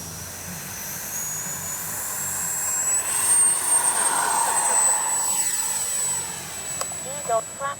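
A Freewing F-22 RC jet takes off, its ducted-fan whine building steadily and holding high and loud over a broad outdoor rush, with a voice calling out briefly near the end.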